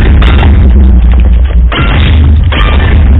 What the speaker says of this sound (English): that caused an explosion in front of me